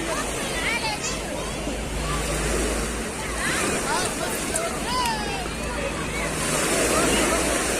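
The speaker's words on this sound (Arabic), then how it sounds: "شايفين الموج صافي ازاي، بحر جميل جدا" Calm sea waves wash onto Gleem public beach in Alexandria, a broad continuous surf rush with wind noise and distant crowd babble beneath.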